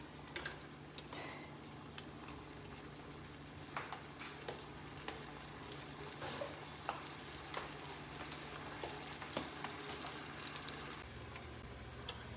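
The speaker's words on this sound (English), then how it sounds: "So I'll come back once those start frying up." Canned green beans sizzle steadily in a hot pan, a soft continuous frying hiss dotted with small pops and crackles, with a low hum underneath.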